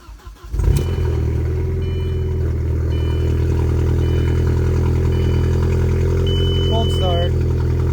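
A modified car engine cold-starts with a brief crank, then settles into a loud, steady idle close by, a deep continuous rumble that holds for several seconds, with a person's voice briefly heard over it near the end.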